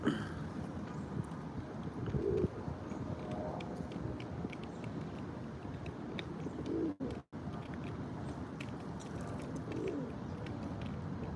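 Pigeons cooing in a low, steady murmur of overlapping calls, with a continuous rumble of soft coos and some background noise throughout, no talking.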